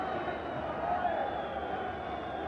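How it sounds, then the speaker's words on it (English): The Ipswich football crowd at a 1981 match is a steady, distant roar of murmur and cheering, with no clear breaks. "In holiday mood here, the Ipswich crowd, but a lot of Sunderland supporters too."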